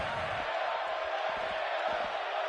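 Crowd roar from an arena in the wrestling video game WWE 2K17, a steady, dense wash of cheering that stays loud and unbroken throughout, with faint low thumps underneath.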